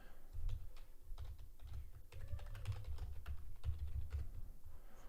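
Rapid typing on a computer keyboard during live day trading, steady clattering keystrokes in irregular bursts, fairly close and moderately quiet.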